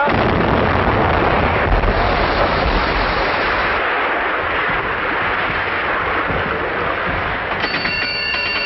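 A ship's or submarine's naval gun firing at a target 1700 metres away in a 1930s wartime setting, a heavy rumbling roar of blasts and surf-like wash that fills the whole stretch without any clear pause.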